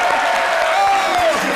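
An audience applauds at a comedy show, a short burst of dense, steady clapping from a crowd.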